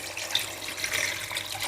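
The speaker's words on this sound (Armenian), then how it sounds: "մի քիչ եմ ջուր լցնում" Cold water poured into a pot of roots and eggs during Easter cooking, a soft continuous trickle and splash heard close up, steady for a moment and alone.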